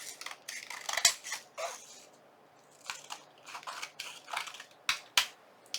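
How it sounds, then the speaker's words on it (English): Scissors cut vellum paper to size with a run of crisp, close snips in irregular bursts, separated by short quiet pauses. "we are going to cut our vellum to fit our rectangle"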